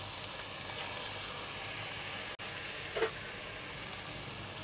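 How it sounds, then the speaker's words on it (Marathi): Prawns being sautéed with garam masala and other spices in a pan: a soft, even sizzle close by, with one brief utensil clink partway through. "कोलंबी व्यवस्थित परतून घ्यायची आहे"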